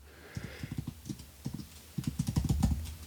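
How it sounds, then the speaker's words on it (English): Fingers tap out a password on a Mac computer keyboard in quick, light bursts of clicks with short pauses between groups, close and fairly quiet. "I'm going to type in a password."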